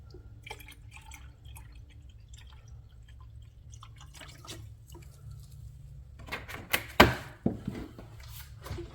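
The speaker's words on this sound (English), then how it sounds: "every time you squeeze that, you hear the bubbles" Coolant gurgles and bubbles in the cooling system of a BMW 440i as a hose is squeezed, giving faint scattered drips with a short burst of louder bubbling near the end.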